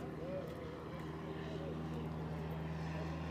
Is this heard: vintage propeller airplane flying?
yes